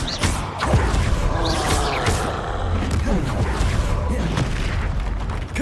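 A Confringo blasting spell going off in Hogwarts Legacy gives a loud booming blast with rumbling, crackling debris amid ongoing combat noise, with brief voices in the mix.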